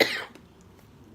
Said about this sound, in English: I'm about to cough. Hold on.